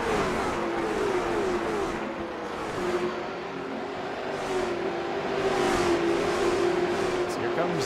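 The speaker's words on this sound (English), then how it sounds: "Got a big run to the inside there. And he'll go by the 8 of Trey Ashworth" Late model race cars circle North Wilkesboro Speedway in a steady, droning roar of engines with a rising and falling whine, heard from a distance, while an announcer's voice runs over it.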